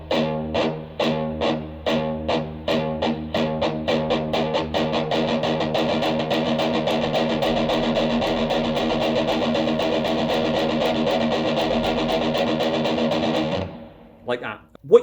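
Distorted electric guitar strums heavy metal rhythm in steady alternating down-up strokes, the downstrokes accented, first choppy then sustained into a dense wall before cutting off abruptly.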